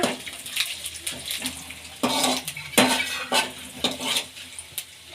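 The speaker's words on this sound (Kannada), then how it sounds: "ಈಗ ಎಣ್ಣೆ ಕಾಯ್ದಿದೆ ಮೆಣಸು ಹಾಕ್ಕೊಳ್ಳೋಣ ಮೆಣಸು ಜೀರಿಗೆ ಇದನ್ನು ಎಣ್ಣೆಲಿ ಫ್ರೈ ಮಾಡ್ಕೊಳ್ಳೋಣ" Black pepper and cumin seeds dropped into hot oil in a pan, giving a close sizzle and crackle with a few clinks of a utensil against the pan, alone without talk.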